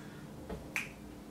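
A single crisp finger click in a body percussion routine, sharp and close, following a softer tap, otherwise quiet.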